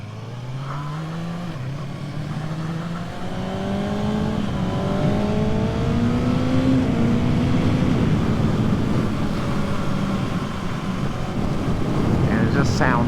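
A 2024 Kawasaki ZX-6R 600cc sportbike revs while riding, its engine pitch climbing through several gears under heavy wind noise, with a rider talking over it.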